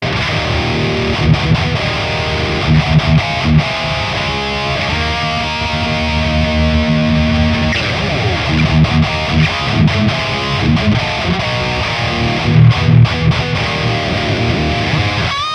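A sustained electric guitar through an Ampero Stage effects unit rings out with reverb on the left and echoing delay on the right trailing each note, continuous and fairly loud with no talking.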